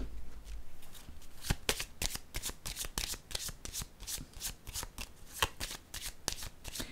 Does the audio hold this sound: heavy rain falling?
no